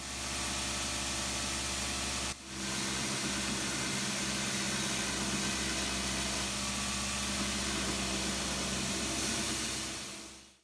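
A homemade belt grinder with upgrades runs steadily, a loud continuous broadband whir with a low motor hum, briefly dipping once before carrying on and then winding down at the end.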